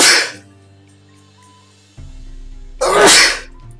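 Two loud, sharp human sneezes, one at the start and another near the end, separated by a low steady hum from a Witcher 3 game session.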